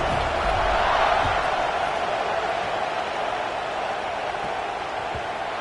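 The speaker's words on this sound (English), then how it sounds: "this crowd is buzzing after that last score" A large college football stadium crowd buzzes after a score in a game involving Florida State, a steady, dense murmur of thousands of voices that swells slightly at first, then settles.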